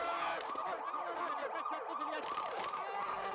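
An ambulance siren wails in a fast repeating up-and-down sweep, loud and steady, with street noise beneath it.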